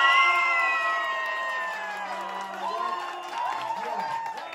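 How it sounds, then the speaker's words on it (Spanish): A crowd of children and adults applauds and cheers for contestant number 4 at a human snowman contest, with shouting and whoops that fade and rise again. "Aplauso para el número 4."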